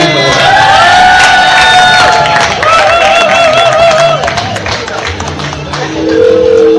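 An audience at a women's day solidarity event cheers and shouts loudly, voices whooping and calling together in a thick, close crowd roar with some clapping underneath.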